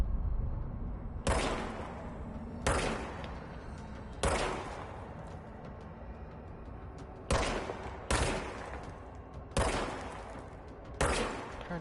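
Gunshots from a gun in the video game Control ring out alone in a slow, uneven series of about eight loud, sharp blasts, each trailing off in a long echoing tail before the next.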